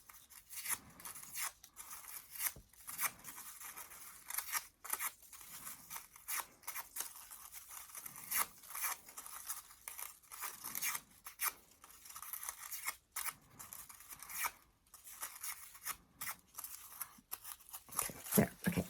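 Scissors make rapid, repeated snips through paper while cutting carnation petals, close and fairly quiet, in irregular bursts of short crisp cuts with brief pauses.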